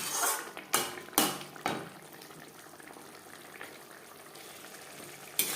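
Chicken being cooked with spices in a pan for chicken ghugni, with a few sharp metal spatula clatters and scrapes near the start over a low, steady cooking hiss that fades, then one more clink at the end.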